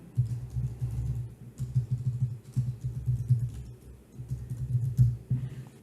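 Soft, steady tapping on a computer keyboard as a title is typed, with quick runs of close keystrokes and short pauses between them.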